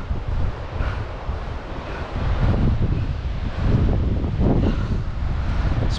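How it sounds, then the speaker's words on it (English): Strong wind roars and gusts steadily across an exposed summit at Rich Mountain on the Appalachian Trail, a loud, continuous broadband rush that swells heavier midway, with no voices. "It's pretty windy up here."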